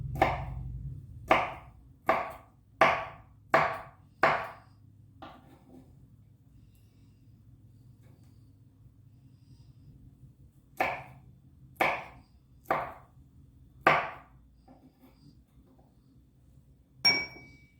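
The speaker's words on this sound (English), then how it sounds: "I finished dicing the peppers" A knife chops spicy peppers on a cutting board in crisp clacking strikes, a run of five quick chops, a pause, then another run of five and a final lone chop, close and clear with no talk.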